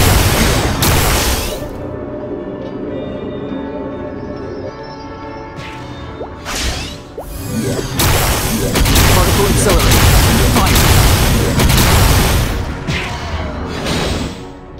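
Weapon fire and explosions from the MapleStory game, with Xenon soloing the Chaos Von Bon boss, arrive as repeated sharp blasts and booming bursts over a continuous loud layer of game sound.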